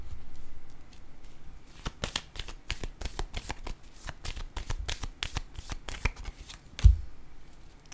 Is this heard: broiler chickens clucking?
no